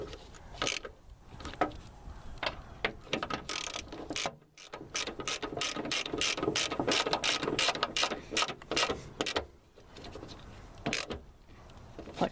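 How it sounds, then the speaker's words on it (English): Hand ratchet tightening the rear strut bolts on a 2000 Honda Civic, heard up close as rapid continuous clicking strokes, with a brief pause partway through. "I'm going to torque them down by hand with a ratchet first"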